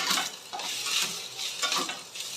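Noodles with tomato ketchup being stir-fried in a pan, with rhythmic scraping and tossing strokes over a soft sizzle, close and moderately loud, with no talking.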